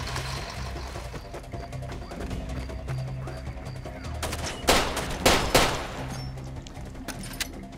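Several quick pistol shots pop in Far Cry 2, grouped in a tight burst partway through and rising above a low, steady game ambience with faint background clatter.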